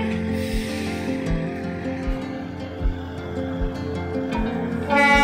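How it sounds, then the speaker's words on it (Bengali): The Darjeeling toy train pulls in, with low rumbling and regular rhythmic clacks from the wheels over the track, plus sustained tonal hums and a brief brighter burst near the end. "একটা টয় ট্রেন এন্ট্রি হচ্ছে।"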